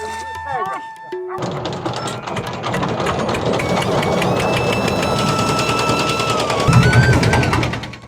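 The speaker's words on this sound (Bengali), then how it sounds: "খেয়া নৌকার ইঞ্জিন চালু করা হলো।" A ferry boat engine on the Padma River starts up and settles into a loud, rapid, steady chugging drone, close by, running without pause.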